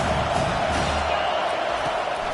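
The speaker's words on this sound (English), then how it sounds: "how nice is it to have the home crowd going absolutely bananas?" Home crowd at a football game roaring steadily on a 4th down play, a loud sustained wall of cheering and noise with no clear breaks, a voice faintly in the mix.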